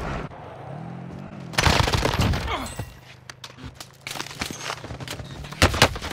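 Gunfire in the Call of Duty Warzone video game comes as sharp, irregular cracks and short bursts after a quieter opening, with occasional voice sounds mixed in.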